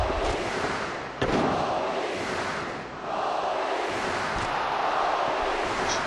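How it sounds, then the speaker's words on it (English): A wrestling crowd in Macau roars continuously and loudly throughout, with a sharp thud-like burst near the start and a brief dip in the noise midway. "And this crowd in Macau comes alive!"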